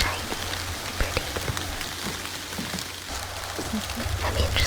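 Steady rain falls on lush plants in Nikko, Japan, with a soft, continuous patter punctuated by scattered, closer drops tapping on leaves.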